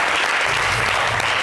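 A studio audience on a French-language television talk show applauds loudly and continuously, a dense, even burst of clapping that fills the whole moment.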